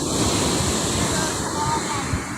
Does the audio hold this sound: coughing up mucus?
no